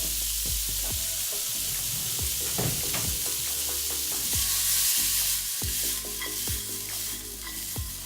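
Riced cauliflower stir-fried with chunky kernels in a hot pan for a keto stir fry, steady close sizzling broken by repeated scraping and tapping of a utensil against the pan.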